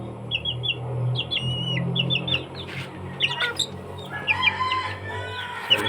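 Backyard chickens cluck and chirp repeatedly at close range over a steady low hum, with bursts of short bird calls coming and going throughout.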